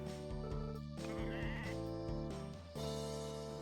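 Sheep bleating in the Harvest Moon: Sunshine Islands video game, several short wavering synthesized bleats repeating over bright looping game music, clear and fairly quiet with no talk.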